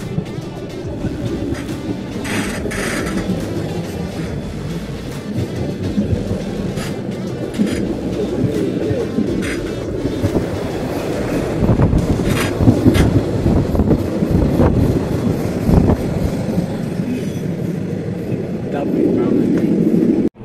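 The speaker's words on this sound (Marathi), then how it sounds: "ट्रेनमध्ये गाडी कार जाते." A car rides aboard a car-transport train on a European road trip through Switzerland, giving a steady, loud rumbling drone with rattles and clunks that swells toward the end, while muffled voices murmur inside.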